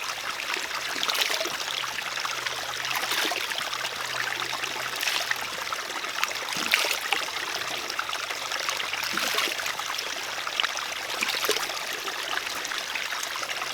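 A river in Vermont on the trail up Mount Mansfield, flowing steadily with a continuous rushing, trickling wash of water, close and even throughout, with no voices over it.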